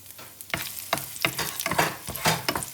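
Chopped garlic and whole spices sizzling and frying in a pan for a Kerala fish molee, with repeated stirring scrapes and bursts of sizzle recurring every half second or so, close and moderately loud, no talking.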